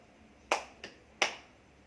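A group performs the 'tepuk laga' clapping routine during a training session: three sharp, quick claps or snaps in an uneven rhythm, fairly faint and close, with no voices over them.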